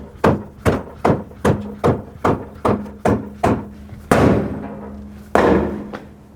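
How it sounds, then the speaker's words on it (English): Rubber mallet thuds against the back of a stuck tire on a 2005-2009 Chevy Equinox: about nine evenly spaced, close, solid blows, then two heavier ringing hits. "use a rubber mallet and tap it from the backside, but always hit the tire, not the rim"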